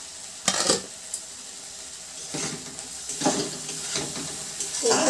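Food being turned and stirred in a pan after the lid comes off, with bursts of scraping and sizzling at irregular intervals, close and moderately loud, with brief quieter gaps between strokes.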